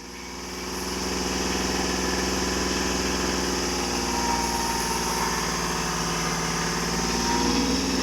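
A 2018 Hyundai i10 Grand three-cylinder diesel engine running steadily close by, a loud continuous drone with a slight rise in revs, no talk over it.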